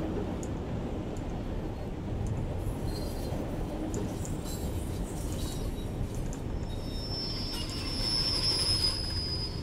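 A 1938 Stock train runs on the Bakerloo line in Train Sim World 2 with a steady, moderately loud rolling rumble. A high wheel squeal grows stronger toward the end, and no one speaks.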